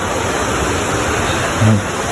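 River water flowing near Biak-na-Bato in San Miguel, Bulacan, a steady broadband rush heard close and loud, with a short low thump near the end.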